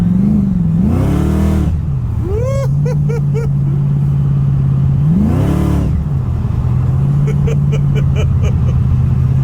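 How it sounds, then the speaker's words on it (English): A supercharged Holden VK engine revs twice in sharp bursts, each climb ending in a high squeal from the belt, then drops back to a steady idle at close range. "The throttle is just so touchy. I've got a bit of a big belt squeal."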